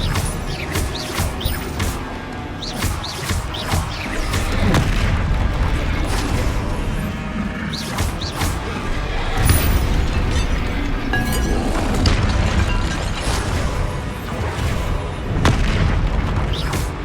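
Confringo blasting spell explosions in the video game Hogwarts Legacy on PS5 go off as a steady run of heavy, loud booms and crashes, one after another over a dense, continuous wash of battle noise.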